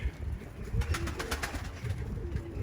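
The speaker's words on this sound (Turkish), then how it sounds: "Bakın kuş." A bird, said to look like an eagle, calls near an office chicken coop; soft repeated cooing notes in short bursts, fairly close against a quiet outdoor background.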